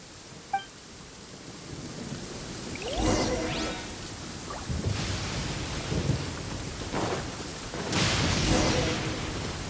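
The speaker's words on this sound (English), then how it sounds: "Uh-oh! Lightning storm!" A Genshin Impact lightning storm in open terrain: steady rain hiss with several rolling thunder rumbles and cracks at irregular intervals, loud and fairly close, with no talking.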